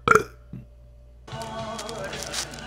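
A girl burps, a short loud belch at the start, then a quiet pause before a longer, rough, voiced burp that continues to the end.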